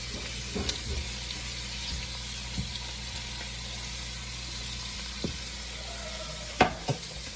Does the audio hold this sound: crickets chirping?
no